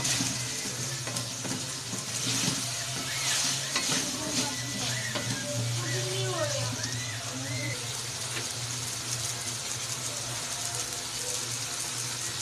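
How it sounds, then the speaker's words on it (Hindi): Potatoes fry and are stirred in a pan with a little water added for an aloo anda dish, a steady sizzle with scraping spoon sounds and bubbling throughout. "आलू की अच्छा तरह भुनाई करेंगे।"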